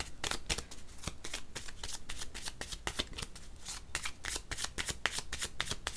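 Tarot cards are shuffled in a steady run of crisp riffling clicks and papery flutters, close and fairly loud, with no talking.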